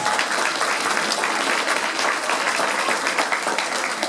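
Audience applause at the Strongman Wejherowo 2017 international cup opening, greeting a former strongman and current MMA fighter. Dense, steady clapping fills the whole stretch at even loudness, with no talk over it.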